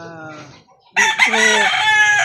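A gamecock rooster crows loudly with harmonic, drawn-out calls, following a brief stretch of hens clucking and a short pause.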